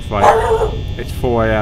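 A dog barks twice close by, short sharp yaps at the start and end, overlapping with a person talking indoors.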